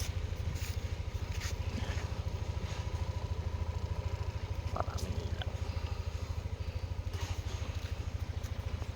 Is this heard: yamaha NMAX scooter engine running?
yes